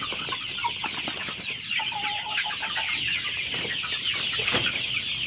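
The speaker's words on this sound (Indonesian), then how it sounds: "kita ngecek ayam dulu" Several chickens cluck and murmur continuously nearby, a steady barnyard chatter with no talking.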